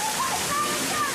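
Water gushes and splashes on a game show obstacle course, a dense continuous rush that fills the short moment while a voice talks over it.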